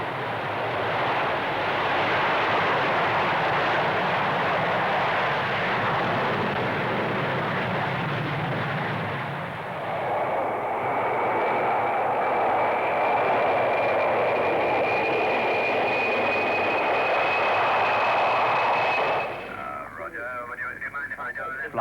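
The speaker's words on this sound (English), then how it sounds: "This V-Bomber Scramble shows the speed with which Bomber Command is able to get a deterrent force into the air." V-bomber aircraft scrambling for take-off at a 1960s Farnborough airshow, a loud, sustained jet roar with a rising whine that builds and then cuts off, heard beneath a voice commenting throughout.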